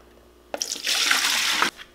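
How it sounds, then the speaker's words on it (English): Filtered cold brew coffee poured back into a pitcher, about a second of close, steady liquid splashing that starts abruptly and cuts off, with no talk. "pour the now clear filtered coffee back into our pitcher"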